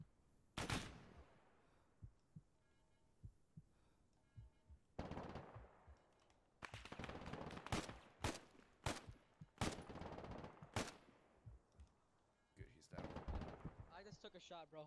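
Bursts of rapid automatic gunfire and single shots ring out in Arma 3 during a military vehicle compound raid, coming in clustered volleys with pauses between them, some loud and close, others quieter.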